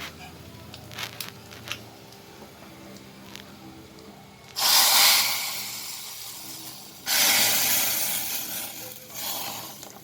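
Hot tempering poured into basale leaf saaru, a Karnataka greens curry, gives two loud bursts of sizzling a few seconds apart, each hissing strongly before settling over quiet kitchen background.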